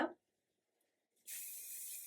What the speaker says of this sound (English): Using a little bit of wax spray just to help with any flyaways.